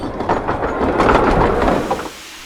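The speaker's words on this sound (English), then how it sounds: "The unmistakable sound of an approaching train." Train approaching a camp with rumbling wheels and grinding, screeching metal on the tracks, building loud and close before cutting off abruptly.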